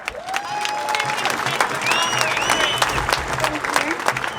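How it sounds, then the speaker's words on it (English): At a rally against the Emergency Services Levy Bill, a crowd applauds to welcome speaker Kate Lancashire, a business consultant. The clapping is thick and continuous, with scattered whistles and cheers rising over it. "Big round of applause for Kate."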